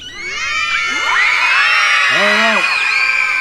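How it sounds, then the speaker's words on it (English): A crowd of children at a school Olympic games event scream and whoop as loud as they can in one sustained, loud burst. The shouts overlap with rising and falling pitches, and some voices cheer above the mass. "I put my hand up, you scream as loud as you can"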